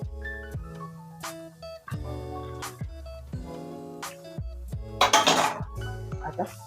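Pasta tipped into a pan of cooked vegetables, then stirred: a string of close metallic clanks and scrapes of a utensil against the pan, repeating every second or so, with a brief rattling pour near the end.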